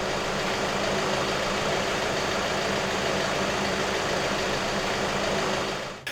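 A diesel engine tuned with pilot injection idles steadily and fairly quietly with reduced knock, a smooth constant rumble close by that cuts off at the end, with no voices.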